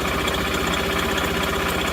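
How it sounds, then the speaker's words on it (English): A motorcycle engine idles just after starting, a steady close putter with an even rhythmic pulse and no talking. "Now let's start the engine"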